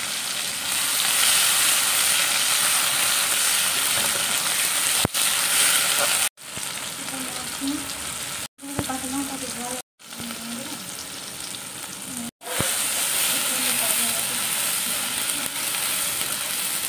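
Black cumin and green chilli tempering in hot oil, a loud continuous sizzle and crackle that drops out briefly a few times before resuming at full strength.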